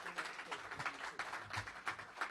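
An audience at a policy event applauds. Quiet, scattered clapping carries steadily through the short stretch, with a faint voice in the background.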